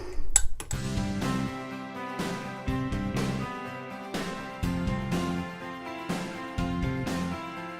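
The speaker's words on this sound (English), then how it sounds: "I'm going to use 2 spoons, and I'm going to try and lift this stuff out into the bowl" Two metal spoons scrape and clink against a bowl while lifting out soft fermented fruit scraps for homemade vinegar, a quick cluster of clatters followed by several ringing taps spaced about a second apart, close up and alone.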